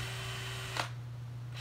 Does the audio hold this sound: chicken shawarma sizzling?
no